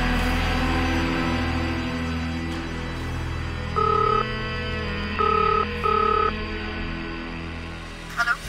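A telephone ring-back tone plays after a call is placed, sounding as three short, evenly spaced electronic tone bursts over a steady background hum in a TV drama scene.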